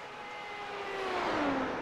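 A race car at Suzuka in iRacing's Grand Prix Series holds a high, steady engine whine that climbs gradually as it accelerates, loud and alone with no talk.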